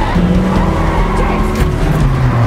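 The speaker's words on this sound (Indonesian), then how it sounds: "Bond langsung menancap gas kendaraannya." A car in the James Bond film trailer No Time to Die speeds off, its engine revving loudly with tire squeal and skidding, close and continuous.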